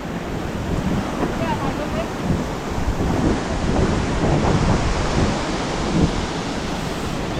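A waterfall near Pilok and E-Thong in Thailand roars steadily, a broad, close rushing of falling water that swells slightly midway and holds without a break.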